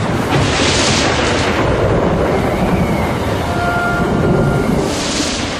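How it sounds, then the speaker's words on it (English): Thunder rumbling during a storm at the edge of a storm cloud, a loud, dense, continuous roar filling the whole stretch with no voices. "And at that point, lightning struck."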